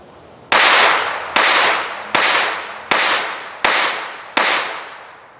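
Six sharp, loud pistol shots from a Beretta Model 418 at a shooting range, evenly spaced under a second apart, each crack trailing off in a short echoing decay.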